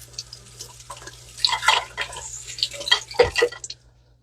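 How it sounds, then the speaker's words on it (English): Hands are rinsed under a running kitchen tap during sauerkraut making. The water splashes and drips briefly and softly, close by, in a short burst. "I'm going to rinse my hands real quick."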